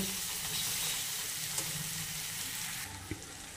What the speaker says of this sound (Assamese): আলুখিনি মই 2 মিনিট মান সময় একদম কম জুইত ভাজি লম